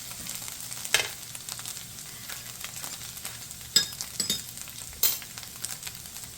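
Loose meat frying in a pan with a cup of beef broth just poured in, giving a steady soft sizzle with a few sharper spits and stirring scrapes, fairly quiet and close.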